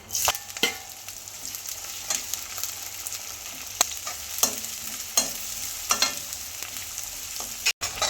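Onions, curry leaves and fennel seeds frying in oil for a crab gravy, a quiet continuous sizzle broken by scattered spoon scrapes and stirring clicks.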